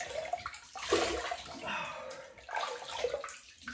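Hot water running and splashing as a face is rinsed at a sink before shaving, a close, uneven sloshing stream.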